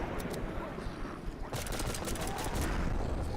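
Rapid bursts of gunfire in the zombie shooter Dead Purge: Outbreak, a dense crackling fusillade aimed at a tank, loud and continuous, with a brief lull before the shooting intensifies.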